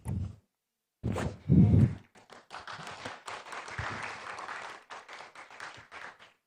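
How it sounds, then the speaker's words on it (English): A crowd at a Buddhist-Christian colloquium breaks into sustained applause for the speakers after a few soft thumps, the clapping steady and moderately loud for several seconds before tapering. "give applause again for all the speakers"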